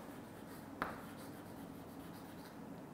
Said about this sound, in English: So now write the answer.